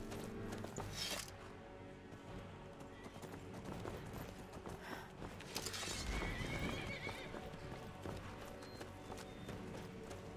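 In a Skyrim video game, hooves clip-clop at a trot while a horse neighs and whinnies, with busy background noise throughout.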